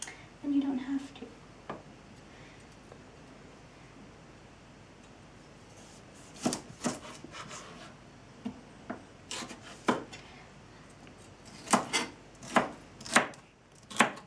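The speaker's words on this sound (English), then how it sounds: "Celery is really easy to cut" Celery is cut with a knife on a board: scattered crisp chops grow into a quicker run of sharp, close strokes near the end, with a person talking softly early on.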